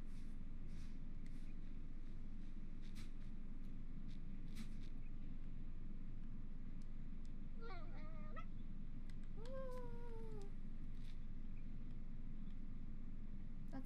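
Cartoon cats meow in the video game Calico, two short rising-falling mews heard over a steady low background hum of game ambience, fairly faint with no talking.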